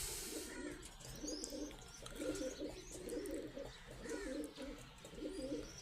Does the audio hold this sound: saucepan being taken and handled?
no